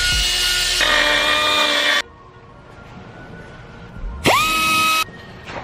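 Loud whine of a power drill boring a hole for strut mounting during a custom air suspension install on a Mazda RX-8, two close bursts with a short pause and a rising spin-up between them.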